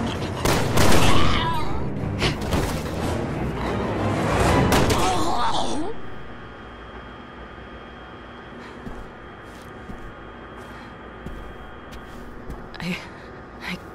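Gunfire in Resident Evil 6, a loud burst of rapid, overlapping shots and impacts over the first several seconds, then quieter scattered sounds with sparse background noise.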